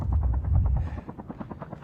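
Helicopter rotor chopping in a Call of Duty match, a steady pulsing thump that is loud and low in the first second, then drops to a fainter, rhythmic beat with no talk over it.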